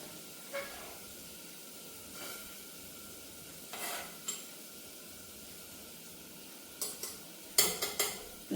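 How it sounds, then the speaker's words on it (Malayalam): Mackerel fish curry masala simmering in a pan gives a low, steady bubbling hiss, broken by a few soft stirring scrapes and sharper clinks of a utensil near the end, all fairly quiet with no talking. "നമ്മുടെ അരപ്പ് നല്ലോണം തിളച്ചിട്ടുണ്ട്"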